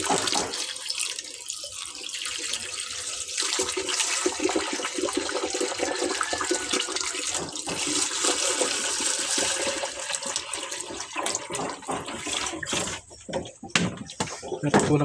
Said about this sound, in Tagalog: Punuin natin ang tubig ulit